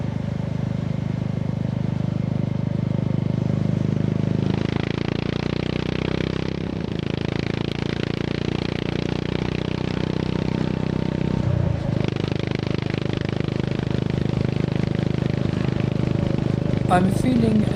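A Honda GB350 single-cylinder motorcycle fitted with a Black Widow 200mm carbon exhaust drones steadily while riding, with a low, throbbing engine note and shifting pitch, heard under continuous talk.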